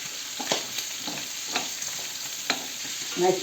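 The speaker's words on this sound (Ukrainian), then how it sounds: "І перемішуємо. І трошки смажиться." Onions sizzle in a pan for goulash while a utensil scrapes and stirs them in intermittent strokes.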